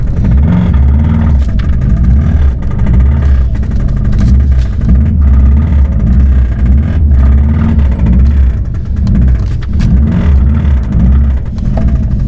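A car engine runs steadily while the vehicle backs out, its power steering unhooked after a timing check, giving a loud, close, continuous low rumble with slight fluctuations in revs and no talking over it.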